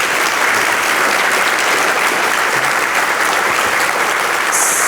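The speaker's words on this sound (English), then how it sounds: "thank them with your applause this morning" A morning audience at a school-district report card event breaks into loud, sustained applause, a dense wash of many hands clapping evenly throughout with no break.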